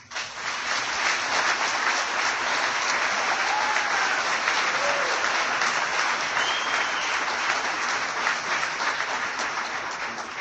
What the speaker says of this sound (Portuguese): eu quero uma salva de palmas para o Hospital Centrinho